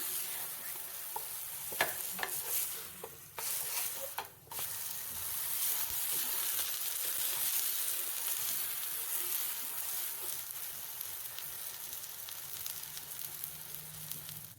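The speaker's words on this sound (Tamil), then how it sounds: "நல்லா டோஸ்ட் ஆகட்டும்." Bread with a spicy, tangy yogurt coating sizzles steadily as it toasts in a hot pan. A few brief stirring or scraping touches land near the start, then an even frying hiss carries on alone.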